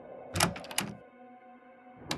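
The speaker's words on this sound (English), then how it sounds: "The door to the bar." Bar door opening in the video game Frequency Missing: a couple of soft thunks and clicks close together, then a hush and one more faint knock at the end, with no voices.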